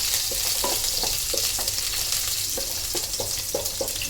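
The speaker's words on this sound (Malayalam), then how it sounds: "ആദ്യം വെളുത്തുള്ളി ഇഞ്ചി ഇട്ട് കൊടുക്കുക, ചതച്ച് വെച്ചത്" Crushed garlic and ginger fry in hot oil for a squid roast, giving a steady, bright sizzle throughout. Soft, regular clinks of stirring tap through it, with no voices.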